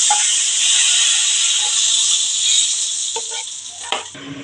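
Hilsa fish frying in hot oil gives a steady, close sizzle and hiss. Near the end come a few brief clinks and scrapes of stirring.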